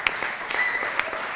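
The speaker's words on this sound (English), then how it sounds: "also a tremendous applause to all the startups that take part in this edition" Brief, moderate applause from a demo day audience cheering startups, a short burst of scattered clapping with a few sharper individual claps.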